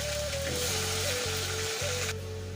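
Cut potatoes frying in hot oil with onion paste in a pan, a loud, constant close-up sizzle with a low steady hum underneath, no voices.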